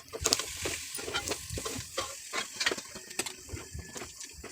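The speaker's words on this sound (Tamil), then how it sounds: "நான் சட்டியில் வைக்கிறதுனால மண் சட்டினால கொஞ்சம் அடி பிடிக்கும். அதனால் நல்லா கிளறி விட்டுக்கிட்டே இருக்கணும்." Spoon scraping and stirring blood fry in a clay pot, an irregular run of close, sharp scrapes and taps over a soft sizzle, with no talking.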